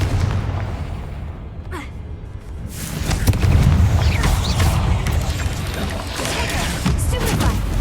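Blasting-spell explosions in the fantasy game Hogwarts Legacy: several heavy booms and crashing bursts in quick succession over rumbling battle noise, loud and close, with brief whooshes between hits.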